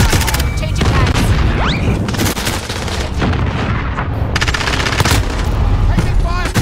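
Rapid automatic gunfire and booming explosions fill a Call of Duty Modern Warfare Hardpoint multiplayer match, with loud, dense, overlapping bursts throughout and game voice callouts mixed in.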